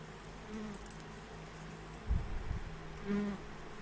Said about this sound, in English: Bugs skitter from the bowl.